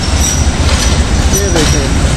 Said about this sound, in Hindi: आखिरकार ये आ गई है ट्रेन लासानी एक्सप्रेस, और इसको लीड कर रहा है RG20 5104